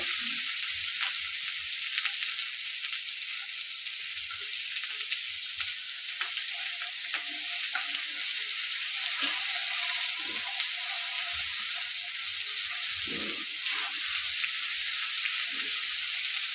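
Ground spices sizzle and fry in oil over medium heat for palak anda curry, a steady bright hiss running throughout with occasional small pops and stirring, no voices.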